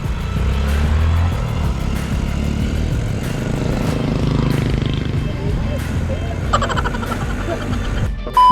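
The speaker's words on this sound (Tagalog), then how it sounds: "Motor sa likod." A motorcycle on a road approaches from behind a group of cyclists and passes close by, its engine revving and rising in loudness, with clattering and brief voices around it.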